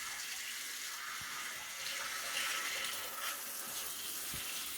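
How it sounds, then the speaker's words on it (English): Water runs steadily from a sink tap while a metal relic is rinsed clean, a continuous close hiss and splash with no talking. "turn on some water."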